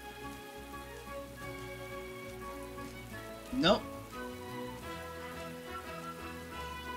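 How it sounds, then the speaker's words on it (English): Light, steady rain patters continuously under tonal game music in Atelier Ryza 3, with a brief rising whoosh midway and a short spoken word. "It's raining and she's not drenched in the wet."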